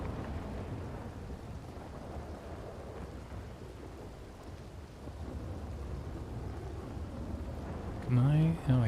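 Steady rain and low rumbling thunder from a video game storm, a continuous dense wash with a louder burst near the end.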